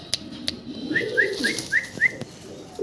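A pigeon kept for sale coos softly in a short run of five or six rising calls, close by, against a quiet background with a few clicks.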